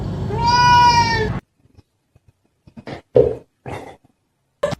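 A pet cat lets out a long, loud drawn-out meow close by, followed by quiet pauses and a few short scattered household noises and bumps.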